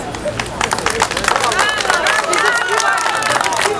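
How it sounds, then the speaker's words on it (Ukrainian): Applause from a crowd at an outdoor Ukrainian Independence Day embroidered-shirt march and concert, dense steady clapping mixed with voices and murmur, fairly loud and continuous throughout. "Оплески"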